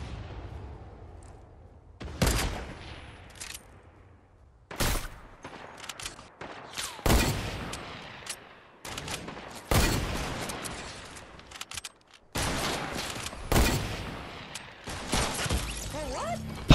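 Bursts of gunfire in Fortnite, loud fusillades of rapid shots separated by short pauses, repeating across the whole stretch with no talk over them.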